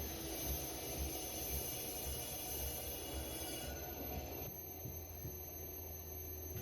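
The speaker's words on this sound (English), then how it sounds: "begin trimming in the base and tidying up the exterior of the bowl" A potter's wheel spins steadily while a tool trims the base and tidies the exterior of a ceramic ramen bowl, giving a continuous droning, scraping whir throughout with a slight change partway through.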